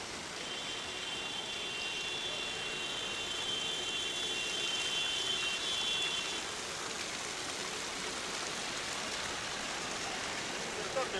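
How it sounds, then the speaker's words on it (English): Water from an always-running fountain in a Belgravia square in London, a steady, faint splashing rush with no breaks, with a brief thin tone near the start. "So here you have the fountain, guys. It's always switched on and it's flowing very nicely."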